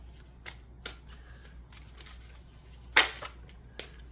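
Tarot cards are handled and drawn in a quiet room, with soft intermittent riffles and flicks and one sharper snap of a card near the middle.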